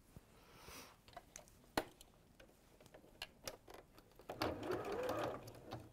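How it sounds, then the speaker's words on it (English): A domestic sewing machine stitches fabric around a corner, with quiet ticking mechanism sounds and a louder, steadier run of stitching toward the end. "I'm going to sew all the way around that corner now."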